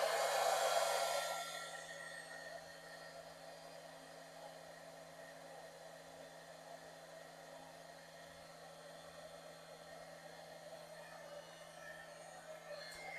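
A heat embossing tool blows hot air over a handmade card, giving a steady airy whir and hum that drops in level after the first couple of seconds and then continues evenly.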